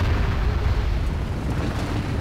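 A deep, rumbling boom from a bombard cannon shot during a siege battle in Medieval II: Total War, a loud, dense low roar that holds for a couple of seconds without a sharp attack.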